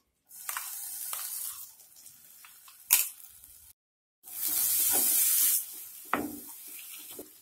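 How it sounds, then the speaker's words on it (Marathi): Ground roasted-onion spice paste sizzles in a kadhai, with broadband frying hiss swelling in two loud bursts, scattered clinks and scrapes between them and a brief gap of near silence. "इथे कढईमध्ये मी आपलं वाटण घालणार आहे."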